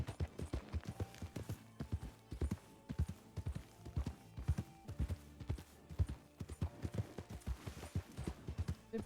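Horse hooves clip-clopping steadily in the video game RedM, a fast, even, rhythmic trot of dull thuds heard clearly and alone.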